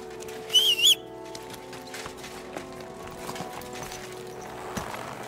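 Horse hooves clop steadily at a moderate, fairly quiet level in the medieval game Kingdom Come Deliverance 2, set against a soft ambient backdrop, with a brief birdlike whistle near the start.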